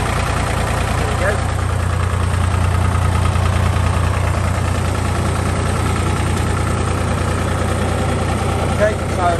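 A 1961 Porsche Diesel three-cylinder tractor engine idles close by, a loud, steady low chugging rumble that runs evenly throughout without changing pace.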